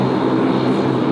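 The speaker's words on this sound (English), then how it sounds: "we've got a Dash 8 coming past" A Dash 8 propeller airliner passes at an airport, a loud, close, steady engine and prop drone filling the brief moment without any talk.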